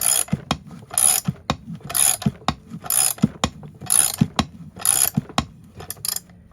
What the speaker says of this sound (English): pull the crankshaft in through that bearing, supporting the bearing the entire way so that there's no lateral stress on it